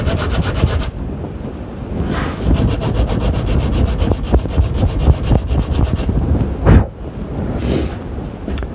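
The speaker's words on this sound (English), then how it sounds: "I'm just going to clean that up a little bit here on the sandpaper." Splintered wood from a self bow's gluing surface rubbed back and forth on sandpaper, a steady rasping scrape in repeated strokes, close and loud, with a brief pause near the end and no talking.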